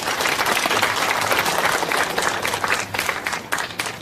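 Audience applause at a literary award ceremony, dense and sustained clapping from a sizable crowd in a hall, loud and even before thinning slightly toward the end.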